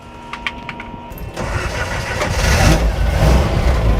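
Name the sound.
engine starting and running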